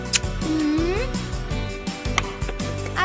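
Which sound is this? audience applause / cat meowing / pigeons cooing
cat meowing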